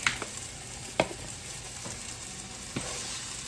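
Jarred garlic sizzling in a hot pan, a steady close hiss of frying with a few soft clicks and taps of stirring, and no talking.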